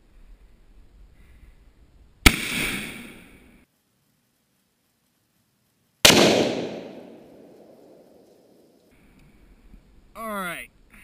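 A Safety Harbor Firearms .50 caliber rifle fires two sharp, very loud shots several seconds apart outdoors, each followed by a long rolling echo, with a brief voice afterward.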